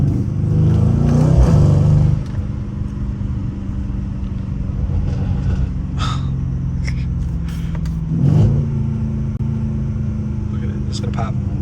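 A stage 2 Mercedes C63 engine in Sport Plus mode revs up and accelerates loudly, then settles into a steady drone, with voices talking over it throughout.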